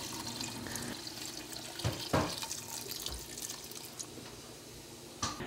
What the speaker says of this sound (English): Add your wine and add water to cover.